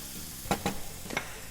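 Two garlic cloves sizzling in a pan while being stirred, a quiet frying hiss broken by a few quick scraping strokes of the spoon.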